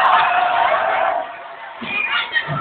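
A crowd cheers for a dance contestant named Vanessa, a loud roar that dips midway and then comes back in short bursts of shouting.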